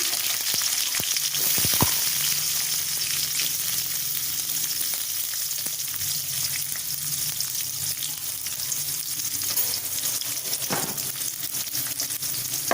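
Onions frying in a pan with cumin for an eggplant curry, a loud constant sizzle held throughout with a couple of brief clinks and stirring touches.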